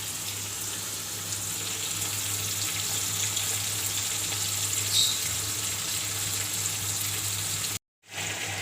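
Meat pieces taken from yakhni broth frying in a pot over lowered heat for Kabuli pulao, a continuous even sizzle with a low steady hum underneath, briefly cutting out near the end.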